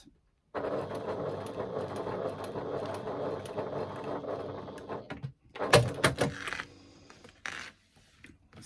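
A sewing machine stitches across a fabric strap in one steady, buzzing mechanical run of about five seconds. It stops, and a few louder clunks and clicks follow, like the machine being handled.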